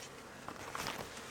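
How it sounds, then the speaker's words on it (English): A swarm of honey bees buzzes around a new wooden hive body, a steady, close insect hum with a few brief louder swells over about a second. "Do you want to dump these bees out of here?"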